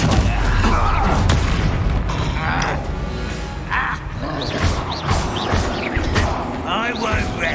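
Spell explosions in the Hogwarts Legacy video game, dense booms and crashing impacts in rapid succession amid combat noise, with a voice shouting over them.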